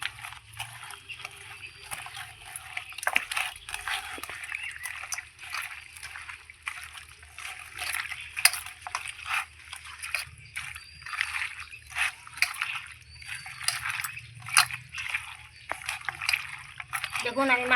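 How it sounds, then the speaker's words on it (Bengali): Mutton is kneaded by hand with a ginger, cumin, chilli and garlic spice paste and mustard oil, giving wet squelching, slapping and sloshing sounds close up, steady and irregular throughout. "মাংসটা আমি খুব সুন্দর করে মেখে নেব হাত দিয়ে।"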